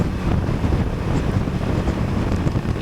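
Constant rushing wind buffets the microphone, a loud, unbroken roar while riding fast on a motorbike after the first rain in Matheran.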